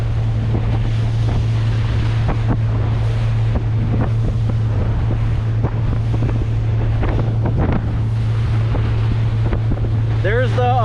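Steady wind buffets the microphone over open water from a boat near a break wall, with a constant engine-like drone and washing waves; a brief tonal whine near the end.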